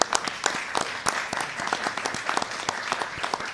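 Applause from an audience at a press conference on veterans' health care staffing, close and fairly loud, with distinct sharp claps standing out in a continuous dense patter.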